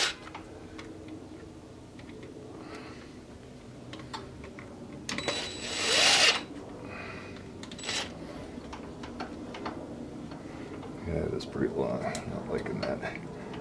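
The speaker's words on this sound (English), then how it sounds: "So right now I'm just gonna snug one of the bolts up just so I can make sure I got everything else lined up" Ratchet clicks snug a bolt while parts are lined up on a Polaris Sportsman ATV with a no-spark fault, near the stator and flywheel. Short bursts of ticking sit over a low background hum, with a louder rustle midway.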